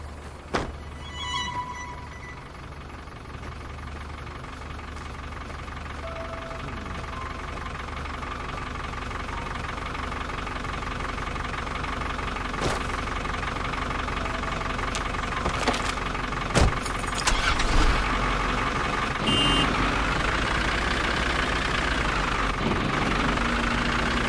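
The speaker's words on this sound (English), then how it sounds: "I bet the truck's still out here. Well, yep, I hear it." A truck engine idles steadily in the Fallout: New Vegas game world, a low continuous rumble with a faint knocking texture, joined by a few scattered thunks and clanks partway through, with no talking.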